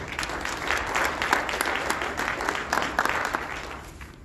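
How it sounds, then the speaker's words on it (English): Crowd applause at a city's 2021 State of the City address in Atlantic City, brisk clapping from a seated audience that rises and holds for a few seconds before tapering off. "Let's give that a round of applause"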